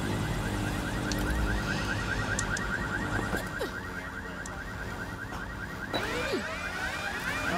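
Alarm blaring in the video game Watch Dogs: Legion, a continuous rapidly warbling tone that repeats without pause over background city ambience and scattered clanks, loud and steady the whole time.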